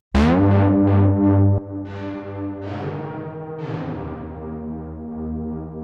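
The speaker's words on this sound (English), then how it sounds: "So I just brought up Valhalla Vintage Reverb and we stuck it in the dirty plate setting" Moog synth bass fed through a Valhalla Vintage Reverb dirty plate, for melodic techno: three loud, punchy rhythmic bass stabs, then sustained, swelling tonal notes with a long, dense reverb tail, with no voices.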